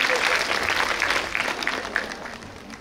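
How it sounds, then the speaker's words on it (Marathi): Loud audience applause welcoming a prize-winning nursing college team at a Women's Day and Ahilyadevi Holkar tercentenary event, sustained dense clapping with voices mixed in, fading slightly toward the end. "जोरदार टाळ्या वाजवून आपण त्यांचं स्वागत करूया."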